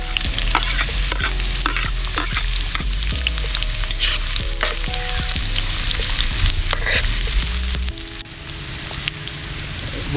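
Chopped onion sizzles loudly in a hot pan for sea urchin adobo while a utensil stirs and scrapes through it in uneven strokes, and the frying noise dips slightly near the end with no talk.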